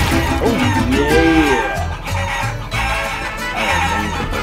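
Chickens in Guacamelee cluck and squawk in quick, chattering calls over a constant bed of game music, loud and close throughout.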